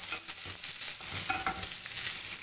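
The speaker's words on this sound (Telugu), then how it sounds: "కొంచెం రోస్ట్ అవ్వనివ్వాలి ఆయిల్లో దీన్ని." Onions roasting in oil in a pan for coriander chutney, a steady broadband sizzle with occasional stirring scrapes, close and fairly loud with no voices.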